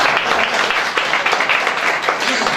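A crowd at a poetry recital breaks into dense, steady applause, many hands clapping together at close range for the whole stretch without a clear break.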